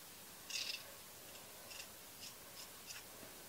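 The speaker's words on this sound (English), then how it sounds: "I'm going to take my scissors" A few quiet, crisp snips from scissors, spaced irregularly against near silence in a quiet room.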